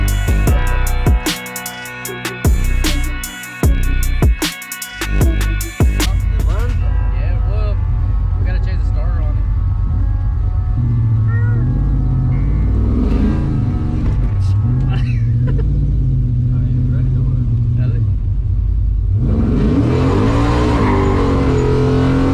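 An old body style truck revs loudly and roars in bursts, then settles into a steady low engine drone while driving, with people talking over it.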